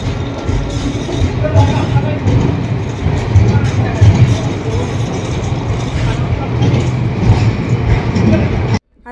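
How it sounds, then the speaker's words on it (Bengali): Steady low rumble and rattling of a moving train heard from inside, loud and continuous, with faint voices now and then. "এটা ট্রেন ছাড়ার পর আমি ট্রেনের ভেতর থেকে এই ভিডিওটা নিয়েছিলাম"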